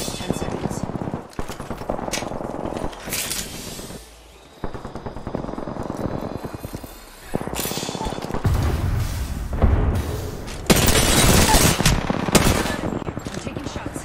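Automatic gunfire in a shooter video game, rapid loud bursts rattling on almost without pause, with a short lull midway and heavier firing toward the end.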